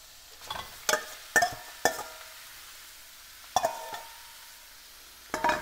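Ground beef sizzles in a pan for Thai holy basil beef over medium-high heat, with a quiet steady fry broken by about six sharp scraping stirs of the spoon.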